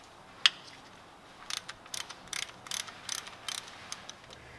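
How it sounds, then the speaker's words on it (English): Allen wrench loosening the size 17 transmission drain bolt on a 2019 Lexus RX350, a sharp click followed by a run of quick ratcheting ticks, close and fairly quiet with no talking. "We're going to loosen this. It's a size 17 Allen."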